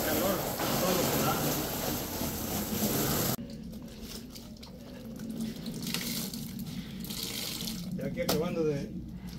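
Water runs steadily into a tank being washed out, a dense hiss that cuts off abruptly partway, leaving quieter splashing, drips and rinsing sounds with a person speaking briefly over them.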